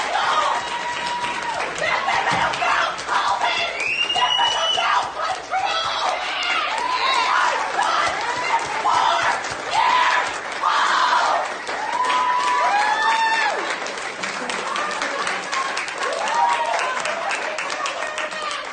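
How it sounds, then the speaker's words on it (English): A large crowd claps and cheers continuously, with whoops and shouts rising over the steady applause, loud and sustained throughout. "And the crowd goes wild."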